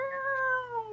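A person imitates a cat's meow, a single drawn-out, slightly falling mew with no other talk, close and clear.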